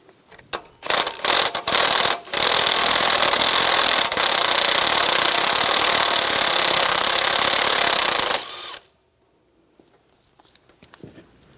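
A 10mm socket wrench works bolts loose on a 1999-2006 Chevrolet Silverado 1500 during EGR tube replacement: a few sharp clicks, then a loud sustained rapid ratcheting rattle for several seconds that stops abruptly, followed by quiet faint taps.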